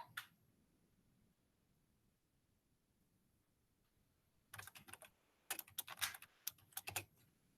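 Quick bursts of keyboard typing, a few separate clusters of clicking keys up close, with quiet pauses between the flurries.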